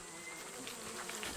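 Many bees swarm around a hive being smoked in Ethiopia, making a dense, steady buzz that fills the space, with a few nearer insects droning past now and then.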